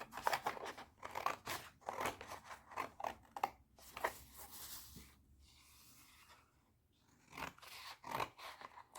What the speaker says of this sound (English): Let's cut it out now.